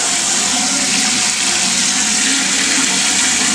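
Water runs steadily into a container in a frog's enclosure, a loud continuous splashing rush held close to the microphone with no pauses throughout.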